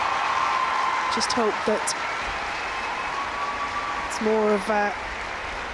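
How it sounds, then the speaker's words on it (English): A stadium crowd of Arsenal and Manchester United fans at a women's football match cheers and applauds in a steady wash of noise while a commentator talks over it. "those cheers and applause are not just from the Arsenal fans, that's from a lot of the Manchester United crowd as well"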